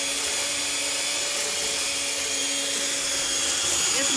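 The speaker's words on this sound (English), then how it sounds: "but this is just a little mixer." A small electric mixer beating cinnamon roll bread dough whines steadily, a loud, continuous motor drone with a high buzzing edge that holds its pitch throughout.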